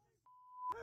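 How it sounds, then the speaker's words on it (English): A single steady electronic beep holds for about half a second during an improv comedy show, then cuts off as a burst of noise and voices starts. "This is really inconsistent beeping."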